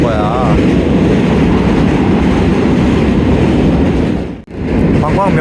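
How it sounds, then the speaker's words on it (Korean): A New York subway train passing, a loud rumbling roar with clattering wheels that fills the scene, breaks off abruptly near the end, then resumes. "지금 한 3분짜리 영상 찍는데 전철이 몇 대가 지나가는 거야."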